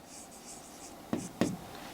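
A pen writes on paper during a profit-and-loss arithmetic lesson: faint scratchy strokes, then two sharper taps close together, quiet and near, with no talking.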